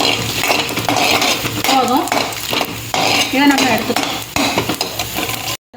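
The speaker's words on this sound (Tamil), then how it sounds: "மூணையும் போட்டு கொஞ்சம் வறுத்துக்கலாம் லேசாக வரமிளகா செவந்ததும்" Peanuts and dried red chillies being dry-roasted in a pan, with steady stirring scrapes and light sizzling clatter of the spoon against the metal throughout, close and fairly loud, without talk.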